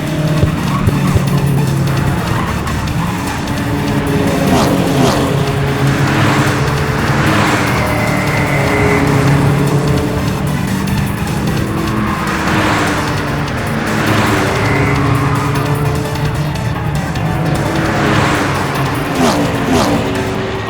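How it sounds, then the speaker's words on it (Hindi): Racing cars speed past during a race with a loud, continuous roar of engines and repeated rising and falling swells as vehicles pass close by, while a commentator talks over the noise. "और ये देखिए गाड़ी नंबर 5 सबसे आगे जाते हुए इसे चला रहे हैं डोमिनिक डिसूजा"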